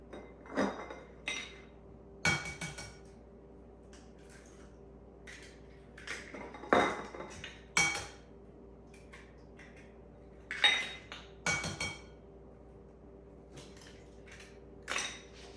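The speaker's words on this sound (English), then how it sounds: "Now to this we're going to add, we have large eggs over here, 4 of them." Four large eggs go into marble bundt cake batter, each one cracked with a sharp tap on a bowl edge and followed by faint clinks and handling noises, spaced out over a quiet kitchen.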